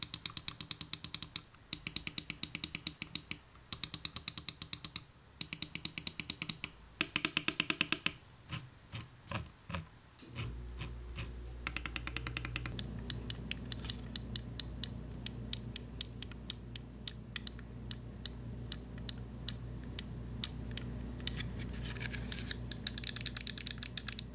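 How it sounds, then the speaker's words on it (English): Crisp, rapid clicks from the buttons of a HyperX Pulsefire Haste 59g gaming mouse with TTC golden micro switches, heard as close, sharp bursts of repeated clicking with no talking. "they say they are using the TTC golden micro switches that are rated for 60 million clicks"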